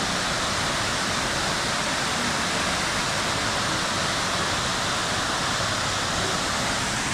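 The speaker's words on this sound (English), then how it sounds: "as we come up near the falls. Upper Gooseberry Falls." Steady, roaring rush of falling water at Upper Gooseberry Falls in Minnesota fills the air, constant and loud with no pauses, like standing close beside a waterfall.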